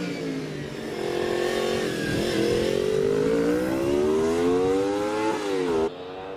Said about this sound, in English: 400cc Honda engine.